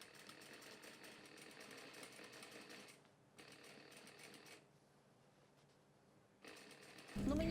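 A sewing machine stitches fabric for a skirt flounce in quiet bursts of fast, even whirring, pausing twice and then starting again, close and soft.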